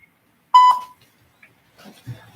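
A single clear voicemail beep after a recorded greeting, a short steady tone alone in silence, followed by faint rustling and the start of a voice.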